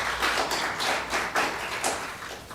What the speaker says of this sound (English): So I would like all of us to give him also a round of applause.